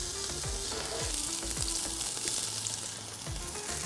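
Chicken and onions sauté in a hot pan for Hadrami chicken maqalqal, a loud steady sizzle with occasional scrapes and knocks of a stirring utensil, close up and without talk.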